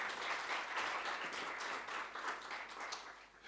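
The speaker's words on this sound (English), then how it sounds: "Let's do a round of applause for our speakers" An audience at a civil society summit claps for the session's speakers, a fairly quiet, even wash of many hands that pulses slightly and fades a little toward the end.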